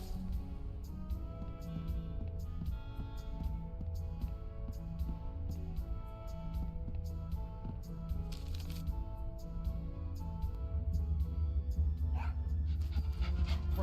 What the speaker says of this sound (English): Oh, such a cute little dog.